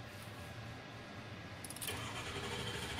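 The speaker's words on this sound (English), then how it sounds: "So I'm going to crank it." A Ford 6.0 diesel engine cranks with a steady, loud starter churn, then catches and fires up about two thirds of the way through, its running roar continuing to the end.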